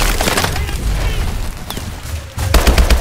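Rapid bursts of gunfire and sharp impacts in the Call of Duty Advanced Warfare video game, loud and close, with crackling, splintering hits and a heavy volley returning near the end.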